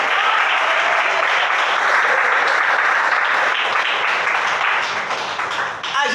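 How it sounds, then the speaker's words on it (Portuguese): A church congregation claps their hands in praise, a dense, sustained burst of many people clapping together that tapers slightly near the end. "Mais palma para Jesus."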